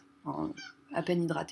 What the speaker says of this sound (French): c'est mon chat qui miaule